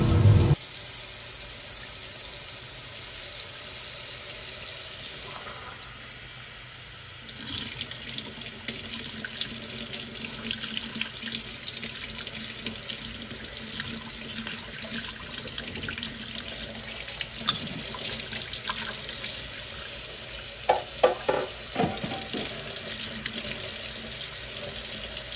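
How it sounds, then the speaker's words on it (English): A kitchen tap runs steadily while a piece of pure silver, made from silver chloride, is rinsed under it. The flow is broadband and continuous, briefly dropping, then returning with small splashes and clinks, with no talking. "I'm going to take it in now, rinse all that off there."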